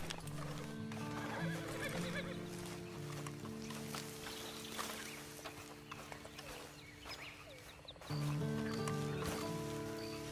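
A horse whinnies loudly over game music while hooves clip-clop steadily, the music cutting off briefly before resuming, in the video game Red Dead Redemption 2 Online.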